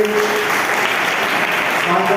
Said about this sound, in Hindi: अब सब लोग अपनी ताली बजाओ